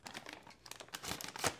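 A plastic Ziploc bag of sliced bacon crinkles and rustles as it is opened, close and fairly soft, rising to a louder crackle at the end.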